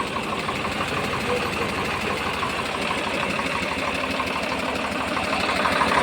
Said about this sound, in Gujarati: એન્જિન પાવરફુલ એન્જિન છે.